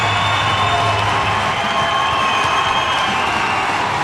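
A loud, dense hockey arena crowd roars and cheers continuously during a fight between players, a steady wash of massed voices with no pauses.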